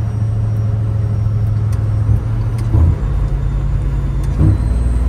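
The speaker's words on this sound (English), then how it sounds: "It's a rev match." A 1993 Chevy truck with a swapped-in LT5 engine rumbles loudly and steadily, with a couple of brief swells around the second and fourth seconds as the engine is blipped for a rev match, no voices.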